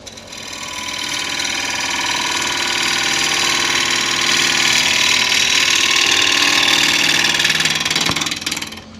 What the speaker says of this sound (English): Right, I need to sharpen this gouge.